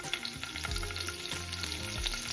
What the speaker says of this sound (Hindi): इसी घी में या ऑयल में हम पनीर फ्राई कर लेंगे अपना।